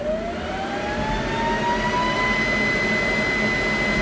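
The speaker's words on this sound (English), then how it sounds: "It's called a thread mill." A thread mill cuts in a UMC10 CNC machine: a steady close machine roar with a high whine that rises in pitch and then holds, continuous and without talk.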